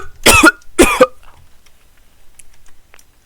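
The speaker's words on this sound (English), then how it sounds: "I'm gonna cough without covering my mouth" A person gives two sharp, loud coughs close to the microphone, the mouth left uncovered. Near-silence with faint rustles follows.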